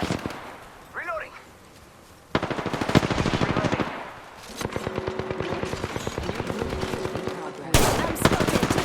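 Rapid bursts of automatic gunfire in the Apex Legends video game, loud and sustained with brief gaps, while a voice calls out over the shooting.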